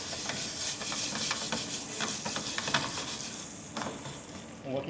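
Butter sizzles steadily in a pan while sole meunière cooks, a close, continuous crackling hiss with scattered spatters and a few utensil scrapes, no one speaking over it.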